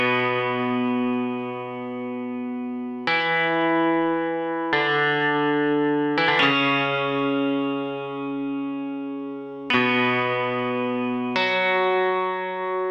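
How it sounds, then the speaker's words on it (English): Banjo-like plucked melody from the Incredibox Colorbox v5 mod music game, a sustained bright tone moving through a handful of held notes with sharp attacks every second or two, clear and alone with light echo. "I think that is a banjo, right? Or at least the sound is."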